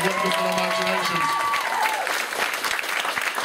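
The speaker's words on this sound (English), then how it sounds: "Give these lovely people a great big round of applause." Audience applause at a hypnotist show, a sustained burst of clapping from the crowd that starts under a voice and fills the rest of the moment.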